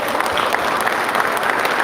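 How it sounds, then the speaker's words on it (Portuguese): A congregation at a Sunday church service applauds, a loud, dense, steady wash of many hands clapping together for the whole stretch, with no voices standing out. "Você pode aplaudir ao Senhor?"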